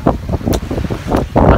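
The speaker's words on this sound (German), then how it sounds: "Es ist heute sehr windig" Strong coastal wind at La Rochelle buffets the microphone in loud, uneven gusts, roaring close and rough with no other clear sound.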